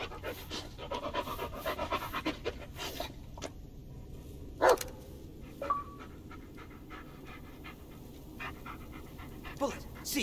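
A dog pants rapidly and steadily in the Blair Witch video game, soft and close, with a few brief clicks and rustles breaking in along the way.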